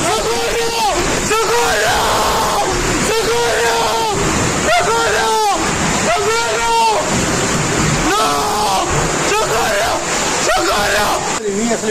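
Floodwater rushes and splashes loudly during floods in Toledo, a continuous turbulent roar under frequent agitated shouting and talking voices close to the microphone.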